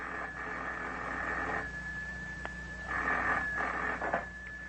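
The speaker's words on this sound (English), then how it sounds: "the phone jangles" In a 1955 Cold War spy radio drama, an old office telephone rings in a few bursts, each ring a buzzing jangle separated by short pauses, over a faint steady hum with no talking.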